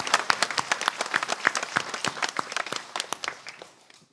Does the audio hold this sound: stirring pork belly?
no